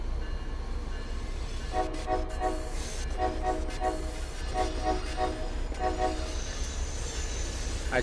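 A two-tone HSP46 locomotive horn from the Train Sim 5 game plays a jingle-like melody in short repeated bursts over steady low rumble of the train running.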